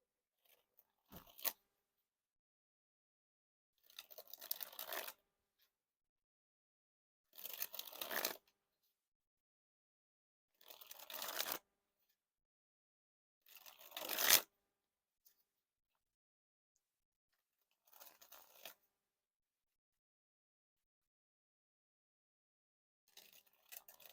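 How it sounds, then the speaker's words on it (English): Playing cards from a Broken Crowns deck dribbled from the hand onto the deck, six or seven separate quick fluttering riffles spaced a few seconds apart in a quiet room. "Now to dribble the cards"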